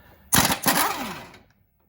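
An impact wrench spins off an idler arm bolt on an S10 pickup in one loud close burst of hammering rattle lasting about a second before cutting out.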